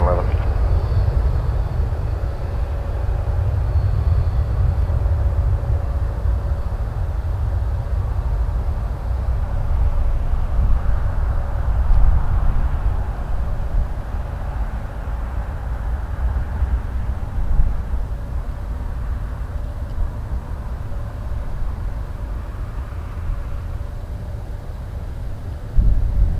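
A Rouge airliner taking off from runway 06 left at Toronto Pearson, a deep continuous jet roar that swells and holds, with wind buffeting the microphone and a voice speaking over it.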